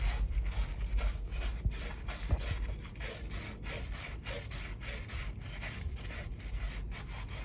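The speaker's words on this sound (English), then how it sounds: "we just take our wire brush and we just gonna clean in here as much as we can" A wire brush scrubs rust and debris off the metal suspension of a 2008 Dodge Durango in rapid, rhythmic rasping strokes, close and steady, with no voices.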